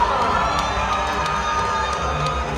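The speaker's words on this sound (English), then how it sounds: "raise a mighty cheer for our host" A Medieval Times arena audience cheers for the queen, a dense, loud roar of crowd shouting and whooping with children's voices mixed in, sustained without break.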